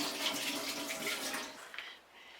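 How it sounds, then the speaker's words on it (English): Tap water runs steadily over hands being washed at a sink during a barbecue cook, a close continuous gush that fades toward the end, with no talking. "Just wash my hands."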